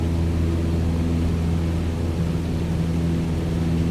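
Airplane engine in the Microsoft Flight Simulator 2020 video game: a loud, steady droning hum with even rumble, continuous throughout and heard alone.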